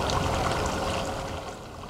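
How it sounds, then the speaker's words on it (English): Running water of a creek at Chico's Seed Orchard on a dry spring day, a steady close rushing and burbling flow that eases slightly toward the end, with no voices. "The pleasant sound of running water. This is the creek, Chico's Seed Orchard today."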